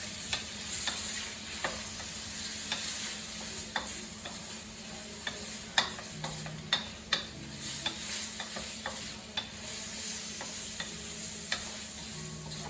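Prawns fry in a pan with garlic, giving a soft, steady sizzle and crackle. Light ticking taps and scrapes of stirring come through at a moderate distance, with no voices.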